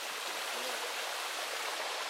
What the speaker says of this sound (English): Look at that little waterfall back there.